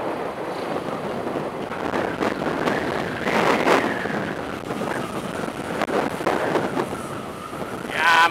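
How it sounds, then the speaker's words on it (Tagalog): Strong coastal wind on Boracay's shore buffets the microphone in loud, continuous rushing gusts that swell around the middle and surge again at the end. "Malakas ang hangin dito."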